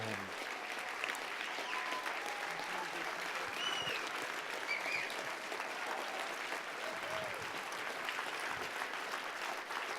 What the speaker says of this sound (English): you better keep clapping until he makes it up the ramp